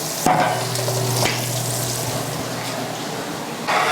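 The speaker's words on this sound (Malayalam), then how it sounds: "അതിലൂടെ സൺഫ്ലവർ ഓയിൽ കൂടി നമ്മൾ ഒഴിച്ചു കൊടുക്കുന്നുണ്ട് കേട്ടോ" Sunflower oil and butter sizzling in a pan for fried rice, a loud close steady frying hiss with a sharp burst as it starts and a brief clatter, with no talk.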